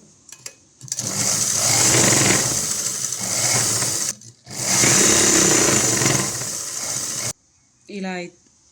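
A sewing machine stitches the back neck of a long umbrella frock with two long, close runs of rapid whirring and a brief pause between them. A voice follows at the end.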